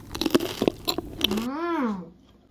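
Crispy fried pierogi being bitten and chewed up close, a run of sharp crunchy bites and chews, then a rising and falling voiced sound as chewing trails off.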